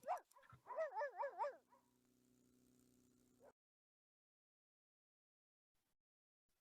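A dog in The Sims Pet Stories video game gives a short run of yippy barks and whimpers, then a held low hum before the sound cuts to silence.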